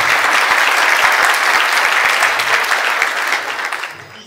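A crowd applauding shareholders at a company's 15th anniversary event, steadily, a dense wash of clapping that holds for several seconds and thins out toward the end.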